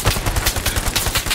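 Rapid, close, loud bursts of automatic gunfire in the World War II shooter Hell Let Loose, firing in a continuous rhythmic stream of shots.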